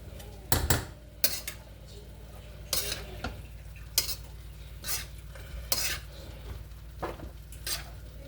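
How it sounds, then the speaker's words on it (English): Stir-fried vegetables scooped from a wok into a bowl for Nigerian fried rice, with a handful of sharp utensil scrapes and clinks over a low, steady background hum. "I'll be scooping out some veggies into this bowl"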